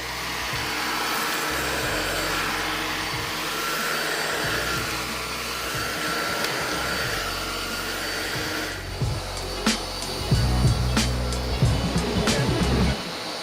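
A Philips SpeedPro Max Aqua cordless stick vacuum cleaner runs with a steady close whine, its tone shifting partway through as it is moved around and knocks lightly against surfaces.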